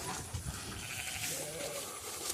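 Goats and sheep on a farm bleat loudly and repeatedly as they are moved between pastures, a close, overlapping chorus of calls with no one talking.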